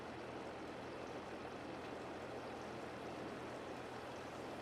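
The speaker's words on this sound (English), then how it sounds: "Top up the water tank." A farm vehicle's water tank fills from a pond in Farming Simulator 22, giving a steady, faint, unbroken rush of flowing water with a low hum underneath.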